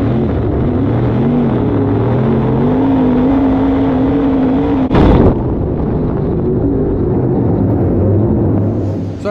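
A race car engine roars loudly at steady high revs during a race, then a sudden sharp burst of noise hits as it blows up, after which the drone continues rougher and lower.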